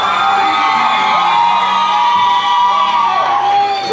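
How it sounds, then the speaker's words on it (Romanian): Crowd at a high school freshmen's ball cheering and whooping loudly, a continuous roar of excited young voices with shouts layered over it. "Aplauze vă rugăm pentru boboceii noștri!"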